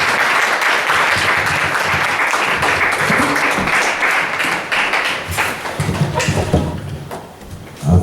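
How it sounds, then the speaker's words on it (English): An audience at a poetry reading gives a round of applause to welcome a poet, a full steady clapping that thins out into scattered claps and some low voices toward the end. "Round of applause."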